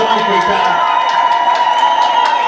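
A crowd at a charity boxing fight in Uganda cheers and applauds loudly, a steady wall of voices and clapping with whoops rising over it.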